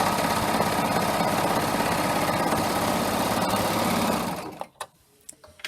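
A four-thread serger overlock machine sews a seam on a pot holder, a fast steady high-pitched mechanical whir running close for about four seconds before stopping abruptly, followed by a few faint clicks.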